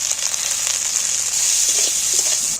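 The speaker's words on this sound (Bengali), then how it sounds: "দেখো এখানে পেঁয়াজ আর ক্যাপসিকামটা ভাজা হয়ে গেছে।" Onion and capsicum frying in oil with a little salt, a steady close sizzle that stays loud and even throughout, with faint stirring clicks and no voices.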